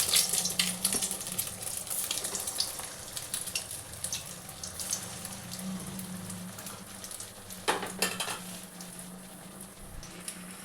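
Bread chops fry in hot oil with a continuous dense crackling sizzle like light rain, with a few sharper spatter bursts and a low hum beneath.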